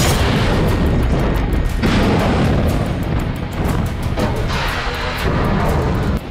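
Dense, continuous rumbling booms of live naval cannon fire at sea, loud and close, rolling together with brief dips between volleys.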